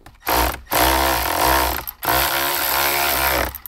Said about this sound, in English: let's go ahead and finish with our 10 millimeter bolts